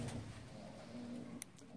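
A pigeon hen in a breeding loft gives soft, low cooing, faint and murmuring throughout, with a brief sharp tick near the end.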